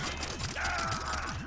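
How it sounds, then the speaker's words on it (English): Weapon reload in the video game Far Cry 3, a short mechanical ratcheting and clicking sequence with a sustained metallic tone in the middle, heard close and alone over steady game ambience. "Reload."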